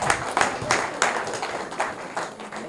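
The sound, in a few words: audience applause for guest of honor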